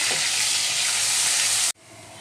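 Grated onion dropped into hot oil sizzles loudly with a bright, steady hiss, then cuts off abruptly to a quieter simmering hiss.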